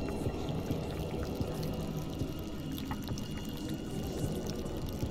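A player character wades through water in the horror game Amnesia: Rebirth, producing continuous low sloshing and splashing at a steady, fairly quiet level with small scattered drips.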